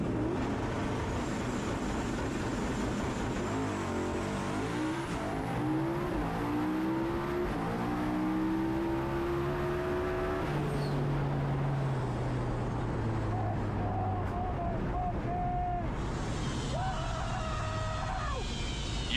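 Race cars in a stick shift drag race roar past loudly and continuously, engines climbing through rising pitches with audible gear changes and revving over a steady crowd background.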